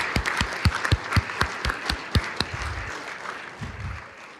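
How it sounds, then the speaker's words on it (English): Applause at a city council meeting in Norwalk, honoring an artist: a crowd claps steadily, loud individual claps standing out early, then the sound thins and fades toward the end. "One big round of applause."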